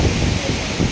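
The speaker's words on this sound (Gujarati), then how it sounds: "આખી રાહ જો આમ નમ એક કલ ધારો પવન એ ચાલુ છે ને વરસાદ એ ચાલુ છે" Steady broadband roar of strong wind with rain during cyclone Biparjoy in a village yard, continuous and loud, buffeting the microphone with no talk.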